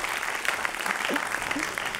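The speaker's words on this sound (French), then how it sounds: "On applaudit encore nos intervenants" Audience applause for the speakers at a French finance panel event, a steady, dense patter of many hands clapping at moderate level throughout the brief stretch.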